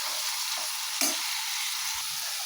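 Broad beans curry frying in a pan, giving a steady loud sizzle throughout with a brief stir or clatter in the middle, close up and with no voices.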